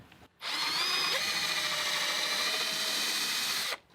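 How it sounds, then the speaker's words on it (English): A power drill whirs steadily for about three seconds, drilling a hole for a screw in an I-beam sawhorse, starting and stopping abruptly, close by with no talking. "1 drill hole right there."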